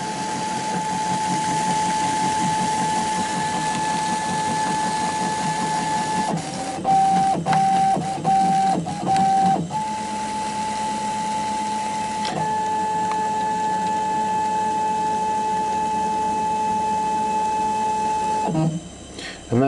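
An HPC Blue Shark key code machine runs a cycle, a steady mechanical whir and hum with shifting motor tones, brief stuttering steps midway and a small clunk near the end, heard close with no talking.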